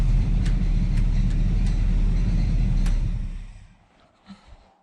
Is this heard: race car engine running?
yes